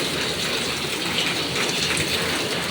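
Heavy rain pouring down outside, a dense, continuous roaring wash of water with no break, fairly loud and close.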